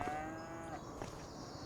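A single cow in a farming video game lets out a long, low moo that fades, heard alone and fairly faint.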